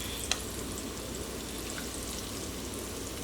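Salmon patties frying in a pan make a steady, fairly quiet crackling sizzle with a single sharp pop near the start and no talking.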